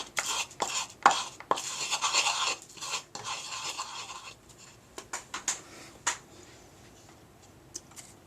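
Coarse grinding and scraping of incense crushed under a rock outdoors, in irregular bursts of gritty rasping and a few sharp taps, close and moderately loud, fading to scattered scrapes.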